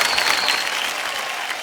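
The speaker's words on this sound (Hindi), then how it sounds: "तालियों के साथ आपका स्वागत" A studio audience on a televised quiz show breaks into loud, dense applause to welcome a contestant, a sustained wash of clapping throughout.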